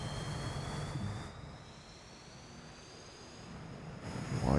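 Jet aircraft engine accelerating in the flight game DCS: a steady roaring whine with high sustained tones that dips slightly in the middle and swells louder toward the end, heard alone without talk.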